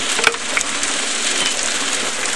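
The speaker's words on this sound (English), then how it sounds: "That noise you're hearing is the rocks going into the big gold pan out the other end." Rocks tumbling out of a gold trommel into a big gold pan make a steady, loud clattering rattle, with a few sharper knocks standing out near the start and no voices.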